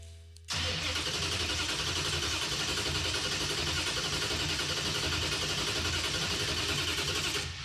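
A 426 Hemi in a Gremlin street car is cranked over: after a quiet moment the starter and engine kick in abruptly and keep up a loud, steady, rhythmic churning close by.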